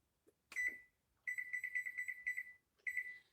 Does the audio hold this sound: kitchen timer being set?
yes